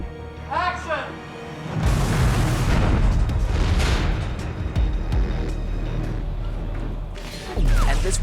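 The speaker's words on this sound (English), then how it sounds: "this huge explosion going on behind you" A huge staged explosion goes off on a movie set for a Fast & Furious 7 hospital destruction scene. A sudden deep boom swells into a sustained, heavy rumbling roar, with a second blast bursting near the end.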